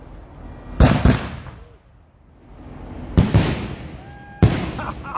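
Nine-shot aerial firework rack, The Mafias, firing shells with sharp booming bursts that echo and fade, three loud clusters a couple of seconds apart outdoors.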